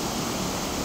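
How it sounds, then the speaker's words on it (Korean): The Jiktang waterfall on the Hantan River in Cheorwon, a broad cascade over flat basalt in winter, gives a steady, loud rushing roar of falling water that fills the whole moment without a break. "직탕폭포가 나타납니다."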